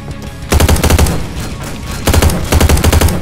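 Mines exploding in the video game Slendytubbies, heard as rapid bursts of sharp blasts in two loud clusters with a brief lull between them.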